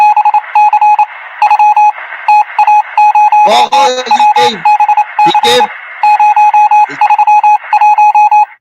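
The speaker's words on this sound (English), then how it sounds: "Let us assume this is the sound of a bell." A bell sound effect plays as a repeating electronic ringing tone in rapid trill-like bursts, loud and close, with a voice breaking in briefly partway through.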